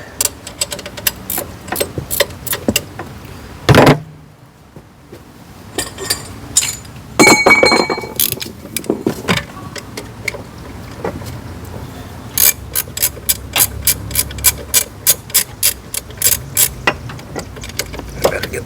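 Ratchet clicking away at the front bolts of a Dodge Caravan alternator, with bursts of rapid metallic ticks, some clinks of tools, a pause, then a long steady run of evenly spaced clicks, close and fairly loud.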